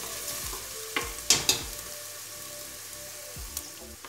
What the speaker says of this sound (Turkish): Soğanı tencereye koydum, yağını ekledim ve kavurmaya başladım.